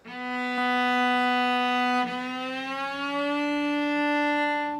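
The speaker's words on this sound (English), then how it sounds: "So we have that annoying slide sound as we go up" A bowed cello note slides smoothly upward from first position to third position partway through, the audible glide connecting the two sustained notes.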